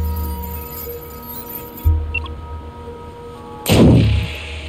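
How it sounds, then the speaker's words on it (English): Explosions in the video game Stray: a low thud, then a loud, bright blast with a rumbling tail, over a steady game hum. "He's about to explode right now."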